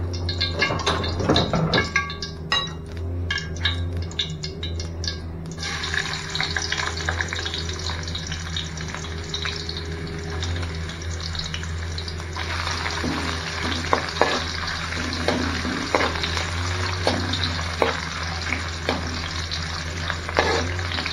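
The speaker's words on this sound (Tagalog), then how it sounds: "Painit na tayo ng kawali na may mantika. Magisa na tayo ng luya, bawang, saka sibuyas." Ginger, garlic and onion sautéing in hot oil in a pan, a steady loud sizzle and crackle with occasional stirring clinks of a utensil against the pan, continuous throughout.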